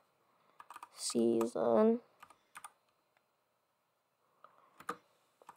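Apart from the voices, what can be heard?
typing on a computer keyboard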